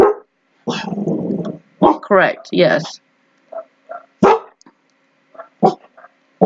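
A dog barks and yips in short bursts, fairly close, with a person speaking briefly in between.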